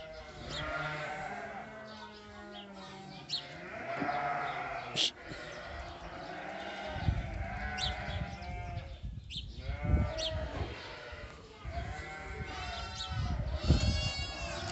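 Sheep bleat repeatedly around a young border collie trained for herding, the calls overlapping at close range over a steady farm background, with a few louder cries standing out.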